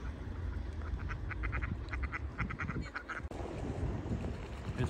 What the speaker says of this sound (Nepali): पुरै हाँसहरू छ यहाँनिर